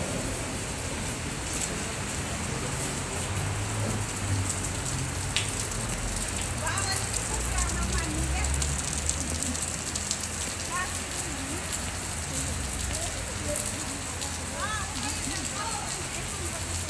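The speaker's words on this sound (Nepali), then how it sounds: "पानी परेर" Rain falls steadily outdoors in Winchester, a continuous broad hiss of drops on surfaces that persists through the whole stretch, with a low rumble of passing traffic beneath it.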